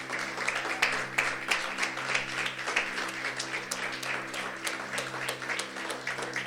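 Church congregation clapping steadily throughout, a dense, continuous wash of hand claps at moderate level with a low hum underneath.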